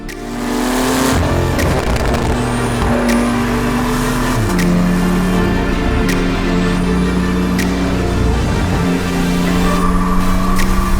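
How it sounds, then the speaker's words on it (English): A Stage 2 tuned Porsche 911 Carrera S with PDK gearbox, 450 hp, runs loud and close in 5th gear, its engine droning continuously with steady pitch shifts as it revs. "all of our Porsche testing on the PDK cars is basically done in 5th gear from 1700 RPM all the way to 7000 RPM"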